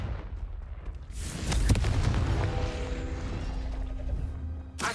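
A Confringo blasting spell goes off in the Hogwarts Legacy video game, a sudden, heavy boom that swells into a rumbling, ringing roar and fades over several seconds before a sharp closing burst.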